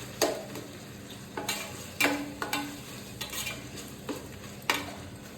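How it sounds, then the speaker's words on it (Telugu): Onion, green chilli and tomato frying in a pan with a spoon scraping and stirring, giving sharp irregular clacks over a steady low sizzle, close by with no voices. "టమోటా బాగా వేయించుకోవాలి."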